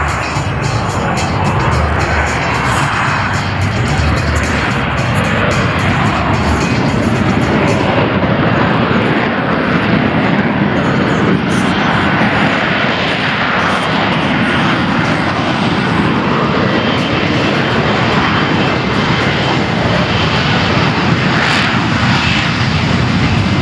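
Loud, continuous roar of military jet aircraft at an air show at MCAS Iwakuni, the engine noise sustained and overpowering throughout with a faint crowd underneath.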